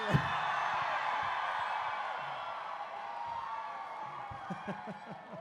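A crowd gathered for Candace fills the space with a broad, steady wash of cheering and whooping, with some yells and laughter rising near the end.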